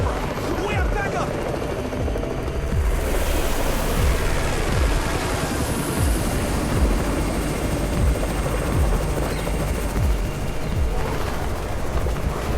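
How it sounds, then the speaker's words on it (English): A helicopter in the zombie video game Undawn arrives with a loud, steady rotor roar and rhythmic low blade thumps, filling the scene continuously over a wash of broadband noise. "It's the Raven's chopper! We have backup!"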